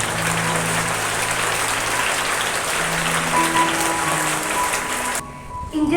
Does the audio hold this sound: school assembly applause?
yes